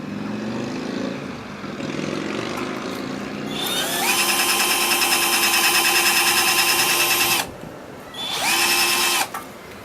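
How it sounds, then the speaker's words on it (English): Weak cordless drill running in bursts, a loud high whine with steady harmonics that holds for several seconds, stops briefly, then spins up again close by, with no talk. "weak drill. Weak."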